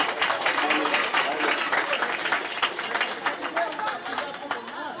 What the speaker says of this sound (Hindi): एक बार आप इन सारे लोगों का जोरदार तालियों से स्वागत करिए